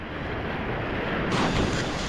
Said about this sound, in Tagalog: Ang lalaki ng alon, biglang lumaki alon ah.